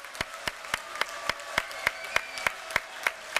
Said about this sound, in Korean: 우리 힘내시라고 더 큰 박수로 격려 부탁드립니다